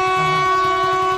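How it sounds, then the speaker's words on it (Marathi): A train at a railway crossing sounds a long, steady horn blast, loud and close, holding for over a second with a rumbling undertone beneath. "माझी रेल्वे आली"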